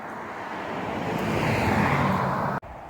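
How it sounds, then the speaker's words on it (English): Road traffic on the N1 heard from a roadside verge, a continuous broad whooshing rumble of passing vehicles swelling and fading, fairly near, ending with a brief handling bump. "That's all the traffic noise I hear."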